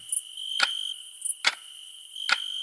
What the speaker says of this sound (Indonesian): Telinganya mendengarkan suara detak jarum jam.